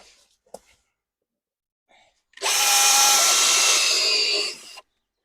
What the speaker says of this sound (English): For drilling any type of hole, I always use a core drill bit